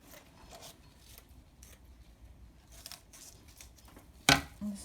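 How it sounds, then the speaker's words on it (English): Scissors snip through lightweight fibreglass mesh in a few soft, close cuts amid quiet rustling, ending with one sharper, louder snip. "I'm going to cut myself a sort of square shape from this lightweight mesh."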